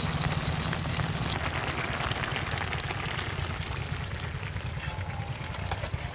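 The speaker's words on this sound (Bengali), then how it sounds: "অল্প একটু জল দিয়ে দিচ্ছি" Water poured into cabbage curry cooking in a pan, a steady splashing rush that gives way to a softer bubbling hiss.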